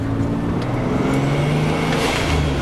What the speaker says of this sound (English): you can hear that 2JZ is definitely purring nicely